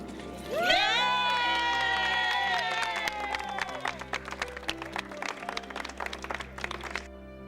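Junior high students cheer and shout together over a bright sustained tone, the crowd noise building quickly then breaking into scattered claps and yells.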